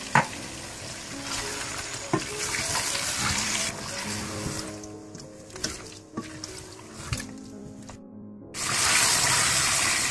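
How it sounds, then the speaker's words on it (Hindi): Spices, kewra, butter and yogurt sizzle and fry in a pan for biryani with stirring and scraping, loud and close, ending in a burst of hissing. "और फिर अच्छी तरह से भून लें"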